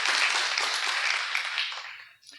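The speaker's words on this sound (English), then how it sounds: "Please give them a round of applause." An audience at the Kick Start Sheridan Action Plan unveiling applauds its legislators, with dense, steady clapping at moderate volume that fades out toward the end.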